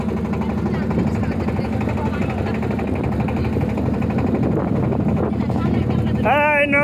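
A motor boat engine drones steadily on a boat trip at Patul in Natore, a constant loud hum with people's voices heard over it.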